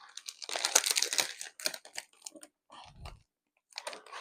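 Someone chews a Honey Crunch Korean snack up close, with loud, crisp crunching in irregular bursts, a few short pauses, and crinkling mixed in.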